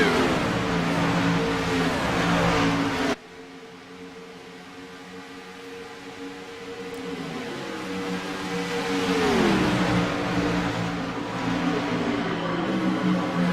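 Stock car race with race cars roaring loudly around the track, engines rising and falling as they pass close by, a sharp cut partway through to a steadier, lower engine drone that swells again.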